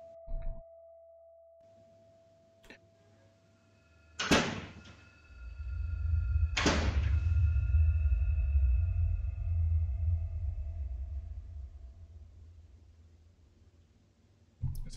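A house door thumps twice a few seconds apart, the second knock followed by a long low rumble that swells and slowly fades, with a faint steady tone and scattered clicks at the start.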